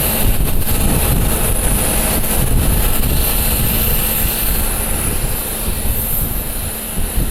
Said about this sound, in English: Another private jet heading out.